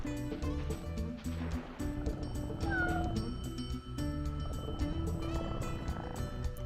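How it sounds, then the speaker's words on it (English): A cartoon cat in Spyro 2: Ripto's Rage makes soft purring and meowing sounds over a busy, looping game soundtrack in a snowy glacier level, continuous for several seconds. "Cat purrs."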